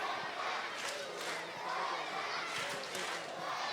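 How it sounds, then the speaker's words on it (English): Stadium crowd at a Vancouver Whitecaps FC soccer match against LA Galaxy II, a broad sustained roar of cheering with swelling surges, steady and loud throughout with no talk over it. "Crowd getting behind their Whitecaps here."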